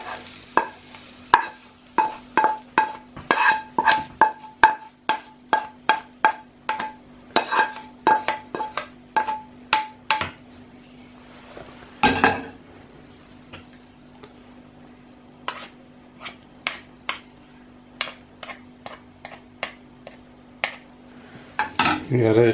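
Minced meat being mixed with fried onions in a bowl, with a quick run of rhythmic clinks and scrapes of a utensil against the bowl, then a pause and slower, scattered stirring knocks, close by.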